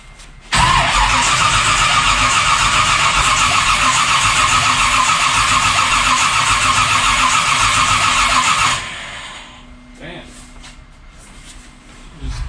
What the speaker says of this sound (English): Not the best time to start an engine